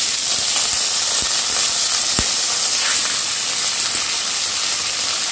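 Basmati rice tipped into hot oil in a pan while cooking paneer pulao gives a loud, steady hiss and sizzle throughout, with a couple of brief knocks from the pan or spoon.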